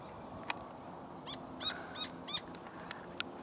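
A bird squawks in a burst of four or five harsh, rasping calls close by, with a couple of sharper clicks around them, over quiet outdoor background on a hot walk near cactus.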